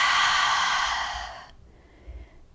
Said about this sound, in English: And then a full breath out.